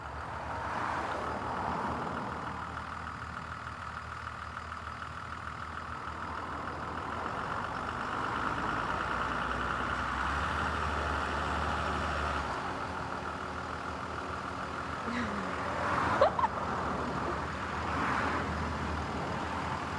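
A school bus with air brakes sits with its engine running, a steady low rumble holding for the whole stretch, with a brief sharper hiss or click near the end.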